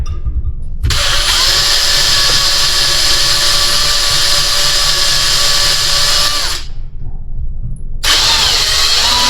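A power drill cuts out a spot weld, running as a loud, steady high-pitched whine for about six seconds, then stopping briefly before starting again close by.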